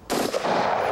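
A single loud, close gunshot cracks sharply, then a long booming reverberation fills the rest of the moment, with no voices over it.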